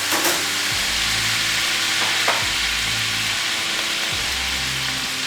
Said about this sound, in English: whatever juice we did get, that goes right back into the pan.